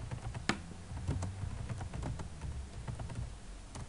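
Words being typed on a computer keyboard while working in Word 2013, heard as a steady run of close, soft key clicks with one sharper tap near the start. No speech.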